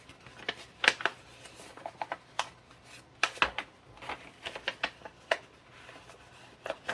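Paper is folded and creased by hand for a papercraft project, giving close, crisp crinkles and soft taps in irregular bursts with quiet gaps between them.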